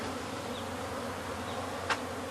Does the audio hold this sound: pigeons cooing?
no